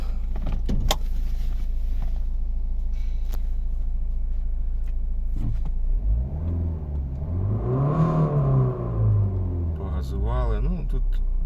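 A 2012 Volvo V50 1.6 D2 diesel engine hums steadily at low rumble, rising and falling smoothly as it accelerates, with a voice talking over it near the end.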